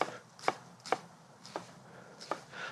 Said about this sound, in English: I can come and make really nice uniform cuts by cutting through those 2 lateral slices